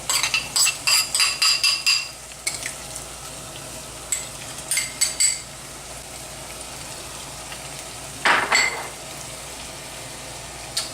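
Clams, shrimp, bacon and scallions are stirred in a pan, a utensil scraping and clacking against the metal in quick rhythmic bursts over a soft, steady sizzle, with pauses between strokes and one sharp clatter near the end.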